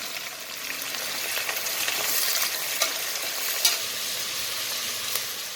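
Chopped onions sizzle as they fry in oil with spices, a soft, steady crackling hiss with occasional small pops and stirring, quiet and continuous with no talk.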